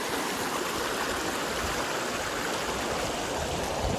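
Stream water rushes at Wang Nam Khiao in Xaisomboun province, Laos, a steady, dense, close roar of flowing water with no break and no voices.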